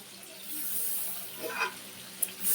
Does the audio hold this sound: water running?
yes